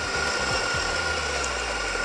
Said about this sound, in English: We switch on the grinder.